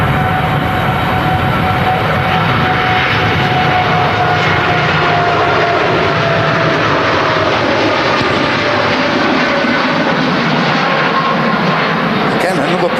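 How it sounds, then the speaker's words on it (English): A Boeing 787 Dreamliner jet takes off from runway 23 right at Manchester Airport, bound for Melbourne, its engines a loud, steady broadband roar with a faint whine throughout, while people talk over it. "off to Melbourne, that Dreamliner"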